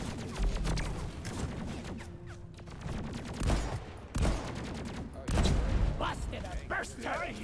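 A burst turret fires in the Deep Rock Galactic video game, loosing dense, rapid volleys of gunfire in repeated bursts with brief gaps and booming impacts, loud and continuous across the scene.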